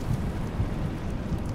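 A thunderstorm called down by the Storm Call shout in Skyrim rumbles low and heavy, with a dense wash of rain and wind filling the whole moment.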